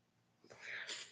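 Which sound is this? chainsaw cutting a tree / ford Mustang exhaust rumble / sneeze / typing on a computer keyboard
sneeze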